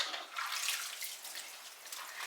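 Canning jar rings are washed in hot soapy water, giving a steady, soft hiss of running and sloshing water with small splashes, close and alone without talk.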